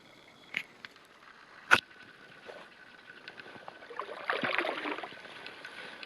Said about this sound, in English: So I'm out paddling across Dora Lake now.